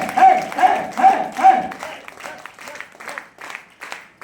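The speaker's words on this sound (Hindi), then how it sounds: "ऐसा बेहतरीन प्लान के मैं चाहूंगा शानदार ताली है।" An audience at a meeting in Khariar Road, Odisha, claps in a brisk, rhythmic burst that thins out and fades into scattered claps.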